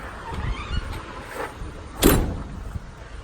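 Faint road traffic noise hums in the background, with a few mechanical clunks and a sudden louder whoosh or squeal partway through.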